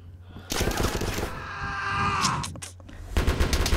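Gunfire rings out in the Roblox shooter Operation Scorpion: a loud rattling burst of rapid shots, a brief lull, then another close, rapid volley at the end.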